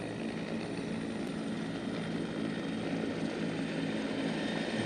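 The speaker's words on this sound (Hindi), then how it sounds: "ये हेलीकॉप्टर्स अफवाज की तेज नक्लो हमल के लिए इस्तेमाल किए जाते हैं। इस वक्त सलामी के चबूतरे के ऐन सामने से गुजर रहे हैं।" Military helicopters pass a saluting dais during a Pakistan Day armed forces parade, producing a steady, loud, broadband rotor and engine roar that holds level throughout without any talk.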